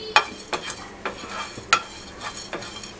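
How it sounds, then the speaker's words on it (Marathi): Black peppercorns, fennel and coriander seeds dry roasting in a pan over medium heat, stirred with a utensil that gives periodic scraping and rattling strokes about every half second over a faint crackle. "हे आता मीडियम गॅसवर रोस्ट करून घेऊया।"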